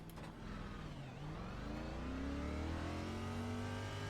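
A NASCAR Cup car in a racing game at Atlanta revs hard, its engine note climbing steadily and loudly as it accelerates, with no talk over it.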